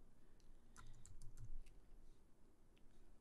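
Quiet, scattered keystrokes on a computer keyboard, a few light taps while a name is entered, faint over a low background hum.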